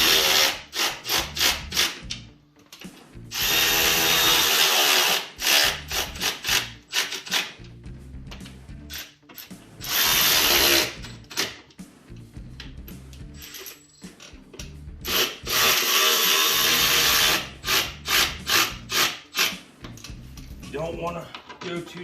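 A 1/4 inch drive ratchet cinches the bolts on a Trail Armor skid plate fitted to a Polaris Sportsman or Scrambler 850/1000 ATV. Quick bursts of ratcheting clicks come close and loud, broken by short pauses as the tool moves between bolts.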